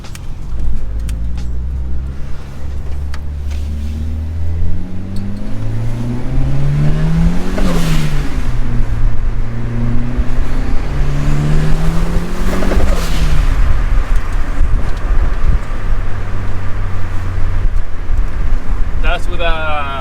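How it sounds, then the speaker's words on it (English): A Nissan B13 Sentra with a 1.6 turbocharged engine drives on the street and accelerates through the gears, engine pitch climbing and dropping repeatedly, loud and close with steady wind and road noise throughout. "yeah, let's go for a drive."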